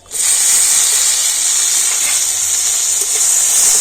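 Tomato, ginger and a green chilli hit hot oil in a pan, sizzling in a loud, sharp, continuous hiss that starts abruptly and holds steady close by.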